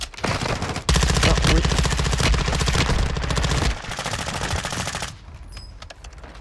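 Rapid automatic gunfire in an online shooter match, loud and close, with dense bursts that pause briefly and then resume before tapering off, and a short spoken remark over it.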